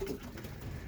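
Racing pigeons give a brief, soft, low coo inside a loft, faint and short.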